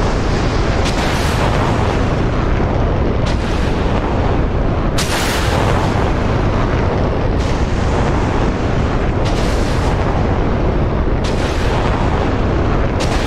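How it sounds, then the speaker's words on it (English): Missile launches from a PAC-3 air-defence battery in a military video game, a dense, continuous roar of rocket blasts and booming bursts, with repeated sharp onsets every few seconds, loud throughout. "Wow, PAC-3 is really firing."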